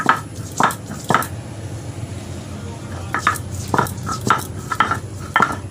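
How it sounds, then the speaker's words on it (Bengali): Ginger, onion, garlic and dried chili are ground by hand into a spice paste, giving irregular wet, squishing strikes and scrapes that come in spaced bursts, close and moderately loud. "আদা বাটছি, এখানে পেঁয়াজ আছে, রসুন আছে, শুকনো লঙ্কা আছে"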